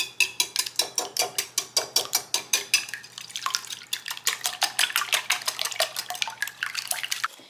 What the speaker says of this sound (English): Got all of my 16 eggs cracked. It is time to whisk.